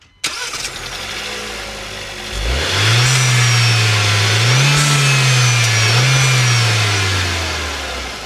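Renault Duster 1.3L manual engine cranks and starts, then settles into a steady idle with rising and falling revs, close and loud, no talking.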